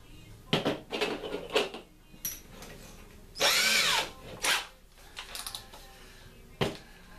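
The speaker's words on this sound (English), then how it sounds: "I start out with a drill bit" A power drill whirs in several short bursts with one longer run in the middle, separated by clicks and handling noises.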